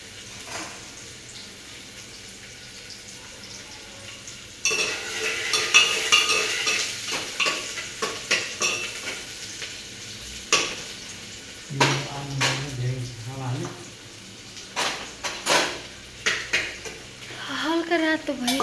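Onions frying in a pan while being stirred with a utensil, scraping and clinking against the pan over a steady sizzle, with someone talking intermittently throughout.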